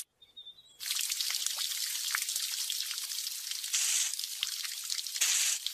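Steady hissing rush of water spraying from a burst pipe, loud and continuous with a brief quiet moment before it starts.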